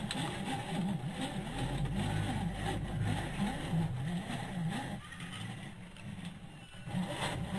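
The motor of an Axial SCX10 RC crawler with a Lexan Jeep Cherokee body whines as throttle is applied on a playground, a steady buzzing drone close by that dips and then rises again.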